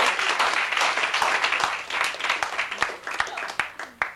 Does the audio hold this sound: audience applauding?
yes